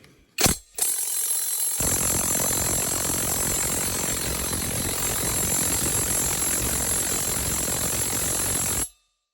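Power tool gun tested on bolts: a brief burst, then a loud, continuous whirring mechanical rattle that runs steadily for several seconds before cutting off abruptly.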